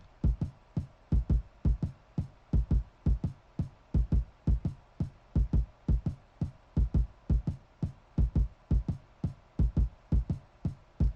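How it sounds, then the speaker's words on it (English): Two layered kick drums thump together in a hip-hop beat made in Logic, a steady, punchy pattern of deep booming hits repeating evenly, with nothing else playing. "And together, both kicks sound like this."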